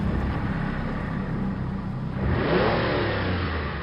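A car speeding through heavy rain at night, a steady dense hiss of rain over a low engine rumble that swells as the car accelerates midway, continuous and close.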